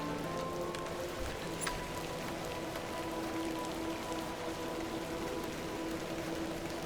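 Heavy rain in the video game The Excavation of Hob's Barrow, a steady, even hiss of downpour on surfaces with faint low tones beneath, continuous and unbroken with no talk.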